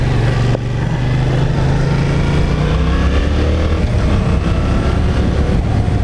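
A 2021 Yamaha MT-07 motorcycle being ridden while still in its running-in period, with its engine droning loud and close and steady throughout, held at moderate revs, and a slight drop in pitch early on.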